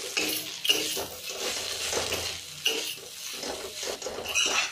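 Spoon scraping and stirring bitter gourd with turmeric and chili powder in a pan, a steady series of close metallic scrapes and clinks over a soft sizzle, with no talk.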